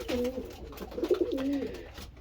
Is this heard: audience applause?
no